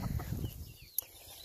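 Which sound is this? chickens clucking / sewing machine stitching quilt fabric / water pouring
chickens clucking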